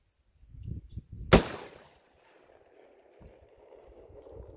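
A shotgun fires a single 3-inch slug shell outdoors, producing one sharp, loud blast that rings out into a fading tail. Before the shot there are faint rustling and insect chirps, and afterward light handling noise follows.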